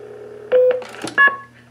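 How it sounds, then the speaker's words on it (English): KP key pulse tone from a pulse-dial-to-DTMF converter in blue box mode on a telephone trunk: a short, loud two-tone beep near the end, preceded by clicks and other tone bursts over a steady line hum. "If I want to play the KP or key pulse tone, which is used to initiate a number sequence, I merely dial and hold 1."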